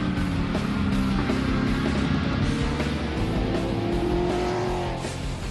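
Race cars in a 2013 endurance series event circle the Winton racetrack ahead of a rolling start, a steady, loud, dense engine roar with several motors droning and revving together throughout.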